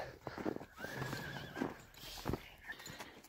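A horse of part-English breeding moves close by with a few scattered hoof clops, and a whinny rises briefly over faint background noise.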